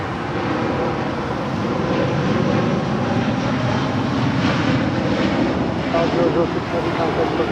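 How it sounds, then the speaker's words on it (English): An El Al Boeing 787-9 Dreamliner in retro livery departs Los Angeles International Airport, a loud, steady broadband jet roar that holds throughout at close range. "This is El Al Flight 6 departing to Tel Aviv on the 787-9 Dreamliner in the retro livery."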